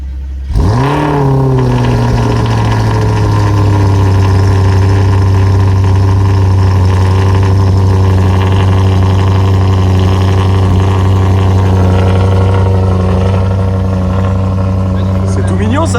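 A high-powered car with a 1253-horsepower engine cold-starts with a sudden loud crank and catch, then settles into a deep, steady, throaty idle that holds close and loud for the rest of the time.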